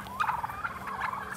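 Domestic turkeys on a small farm gobble in quick, warbling bursts, several birds calling close by in overlapping rounds.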